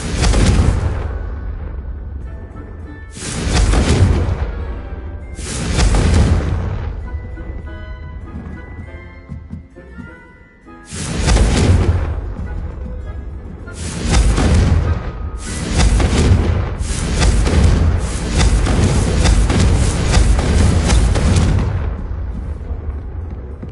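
Confringo blasting spells exploding one after another in a Harry Potter video game, loud booming blasts in a quick irregular series with short pauses and rumbling decays between them.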